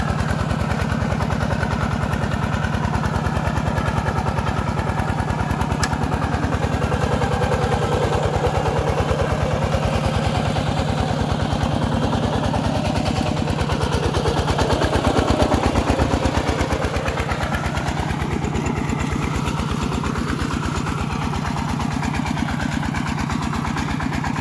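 Walking tractor ploughing a rice field in second gear, its single-cylinder engine pounding in a rapid, loud, continuous chug close by, steady for the whole stretch with slight shifts in load.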